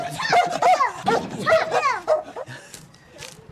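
A dog barks and yaps in a rapid, excited flurry close by at a household in China, with whimpering yips mixed in before the barking trails off into scattered fainter sounds.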